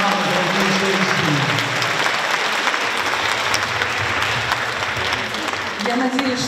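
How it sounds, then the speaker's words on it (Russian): Concert audience in a Minsk hall giving loud, sustained applause that fills the whole stretch, dense and steady, with a voice and some tonal sound faintly underneath. "Спасибо вам за горячие аплодисменты."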